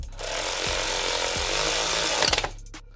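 A cordless impact wrench torquing down torque converter bolts, a loud sustained rattling hammer burst lasting about two seconds, close up, ending abruptly with a few clinks.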